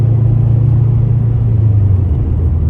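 Steady low engine rumble and road drone from inside a Subaru WRX cruising along a road, constant and loud with a faint dip in pitch near the end, no voices.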